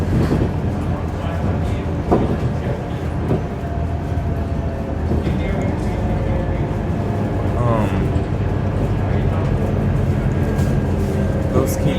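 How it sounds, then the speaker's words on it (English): Idling and running engine of a Scania K230UB single-deck bus with Gemilang bodywork in Singapore, a steady low rumble throughout with vehicle and traffic noise around it and a voice talking over it. "Yeah, definitely sounds like a bus from the early 2000s or even the 90s,"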